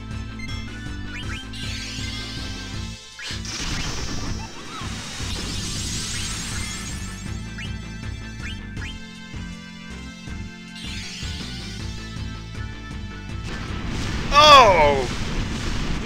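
Ice spell attack in the Final Fantasy IX video game, with rumbling booms and crashing impacts over layered game music, ending in a sharp crystalline flourish; a voice talks over part of it.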